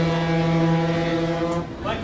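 A General Motors diesel locomotive air horn blares a sustained, chord-like tone that holds strong before cutting off abruptly near the end.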